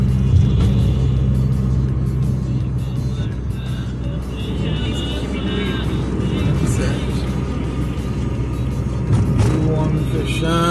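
A car accelerates along a highway in Santa Catarina, Brazil, heard from inside. Loud engine and road rumble runs steadily throughout without a break.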